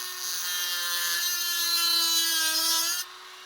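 A Dremel cutting disc grinds a flathead screwdriver slot into a screw or bolt on a Suzuki DRZ400SM, a steady high whine and rasp for about three seconds, then it cuts off; no speech.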